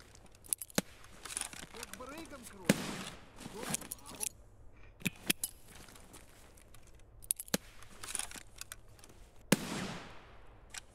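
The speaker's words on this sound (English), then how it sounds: "Eat a flashbang." Flashbang grenades going off in Escape From Tarkov: several sharp, loud bangs scattered among clicks and rattles of gear, with a player talking in between.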